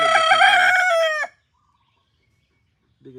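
A Rhode Island Red x Bantam rooster gives one loud, close, harmonic crow that breaks off, followed by near silence and the start of another call.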